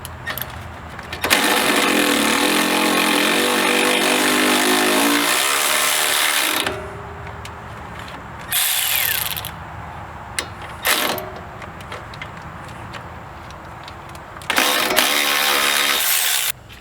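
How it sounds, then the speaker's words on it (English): A wrench and power tool working on the front strut and sway bar of a 2005-2014 Ford Mustang S197: long loud mechanical whirring bursts with ratcheting clicks, broken by quieter pauses and short clanks, close up and without talk. "we put our 18mm wrench on there"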